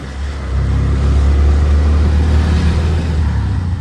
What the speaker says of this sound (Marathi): आता आम्ही इथून रिक्षा करून चाललो आहे